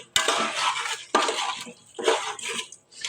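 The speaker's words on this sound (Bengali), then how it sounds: "এখন ভালোভাবে নেড়ে ছেড়ে চাল ডাল ভালোভাবে কষিয়ে নিতে হবে।" Rice and lentils being stirred and fried in a pot, with several scraping, clattering bursts of spoon against metal separated by short pauses, close and fairly loud.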